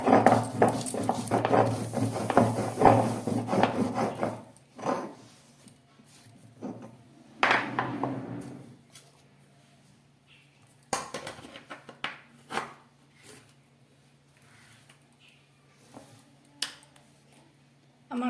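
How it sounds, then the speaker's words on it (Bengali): Green chillies being ground finely on a stone grinding slab, a dense run of rough scraping strokes at first, then sparser separate rubs and knocks with quiet gaps, close and fairly loud. "আমি কাঁচা লঙ্কাগুলোকে মিহি করে বেটে নিচ্ছি।"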